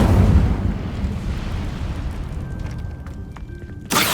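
Incendio fire spell cast in Hogwarts Legacy, a loud fiery burst and rumbling roar at the start that fades into a sustained low crackle, with a sharp flare near the end.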